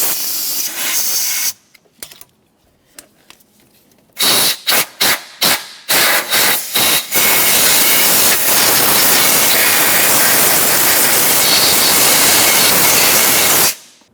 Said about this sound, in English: We'll use some compressed air.